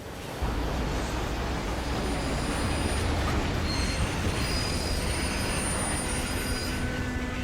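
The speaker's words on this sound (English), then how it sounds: "The defected hopper's axle gave way and derailed." A freight train rolls through a canyon as a defective hopper's axle fails and the car derails, heard as a loud, dense rumble of wheels with a persistent high metallic squeal running throughout.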